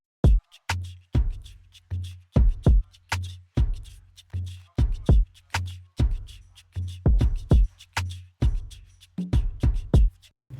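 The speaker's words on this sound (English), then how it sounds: "And then with the shakers that I have going, sounds like this." Steady beatboxed a cappella drum groove, a rhythmic pattern of punchy low kicks and sharp hissy shaker bursts repeating evenly, close and loud with no talking.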